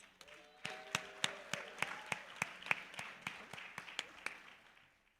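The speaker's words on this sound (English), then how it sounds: "Please give a round of applause to our students." An audience applauds music academy students at a live recital, sharp distinct handclaps ringing out in a loose, fairly steady pattern for several seconds before thinning and fading.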